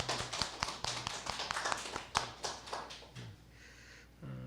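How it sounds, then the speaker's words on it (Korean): A church congregation at a Sunday Advent service claps in welcome, a quick run of sharp, closely spaced handclaps in a room that tapers off into quiet near the end. "앞으로도 건강해질 수 있도록 격려하는 마음으로 박수로 환영하겠습니다."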